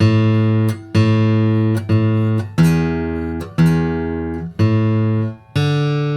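Plucked notes on a 1970s Martin acoustic guitar ring out one at a time, about eight bright, sustained tones with sharp attacks, each decaying before the next, played alone and close.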